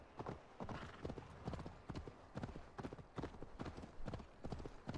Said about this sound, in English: the horse is galloping up behind her